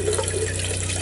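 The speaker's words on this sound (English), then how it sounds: "you can hear the water pump running, and it stops when you turn the tap off" Water runs from a tap into a small sink aboard a narrowboat, with the onboard water pump humming steadily underneath the continuous close splashing.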